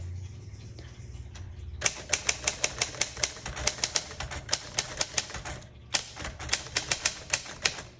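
A 1947 Royal Quiet Deluxe manual typewriter types close up in a quiet room, with rapid, sharp keystroke clacks in two quick runs separated by a short pause.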